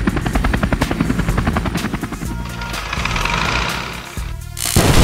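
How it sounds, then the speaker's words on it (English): A police helicopter's rotor thumps in a fast, steady pulse, loud and close, with engine whine underneath. "This is a police helicopter."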